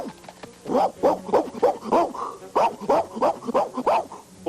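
A pet dog named Kitty barks repeatedly in quick, fairly loud bursts close by, with short pauses between runs of barks and some whimpering yips mixed in.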